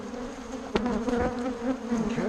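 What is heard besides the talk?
honeybees buzzing in an opened hive box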